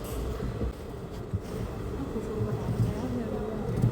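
Steady low rumble of a metro train riding along, a continuous rolling drone with faint clatter throughout, heard from inside the carriage.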